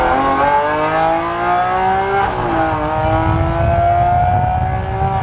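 A supercar's engine drones loud and close from inside the moving car, holding a steady, rich tone with a brief shift in pitch midway as the car keeps driving.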